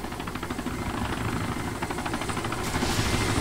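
A military helicopter in the video game Arma 2 drones steadily throughout, its rotor chop thudding as a continuous loud, close engine roar with no talk.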